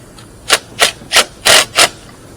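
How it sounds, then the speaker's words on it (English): Five short, rough ratcheting or wrench bursts spaced about a third of a second apart, close and fairly loud, from tightening the battery terminal on a 2019 Toyota Highlander, with no talking. "and then I'm going to tighten this one up"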